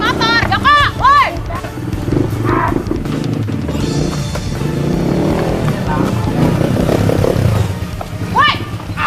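A motorcycle engine roars through a street chase, rising and falling under shouting voices and excited talk throughout, with a few sharp revving bursts.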